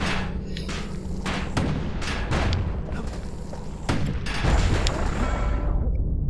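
Turrets firing in the video game Bastion, a run of heavy thuds and booming shots in irregular bursts, fairly loud and close over a steady game background.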